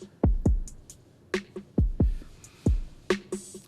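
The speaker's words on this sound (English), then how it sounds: "a drum loop" A Modern Hip Hop drum loop from the Patterning app plays alone: deep booming kicks, snappy snares and light hi-hat ticks in a steady, sparse groove.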